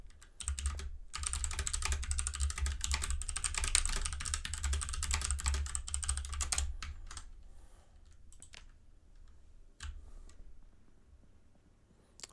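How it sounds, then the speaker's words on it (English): Fast continuous clatter of keys on a computer keyboard, close and busy for several seconds, then thinning to a few scattered clicks and pauses. "let me pause before I tab out and start typing"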